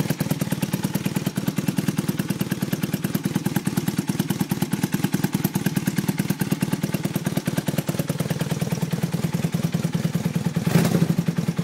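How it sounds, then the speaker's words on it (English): An old motorcycle engine runs steadily at idle with a fast, even, clattering rhythm, close and loud throughout, with a slight swell near the end. "But I don't want to rev it too hard. It's an old bike."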